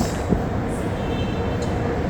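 A train pulling into a railway station in India, a steady loud rumble and rolling rail noise throughout with a faint high squeal, no voices.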